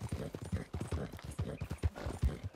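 Horse hooves clip-clopping in the Red Dead Redemption 2 video game, a steady quick rhythm of soft, fairly quiet hoof falls heard alone.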